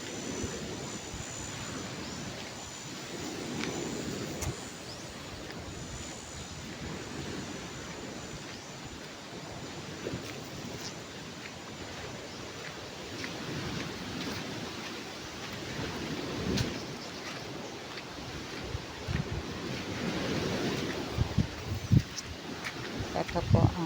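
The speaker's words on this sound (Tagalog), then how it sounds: "Ngayon naman po ay high tide." Sea waves washing onto a beachfront in Buenavista, Quezon province, at high tide. A continuous rushing surf rises and falls in slow swells and stays at a fairly low, even level for the whole stretch.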